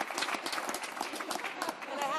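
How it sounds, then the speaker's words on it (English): Dense applause fills the House of Commons chamber, a steady close wash of many hands clapping together, with voices mixed in throughout. "Why are they clapping?"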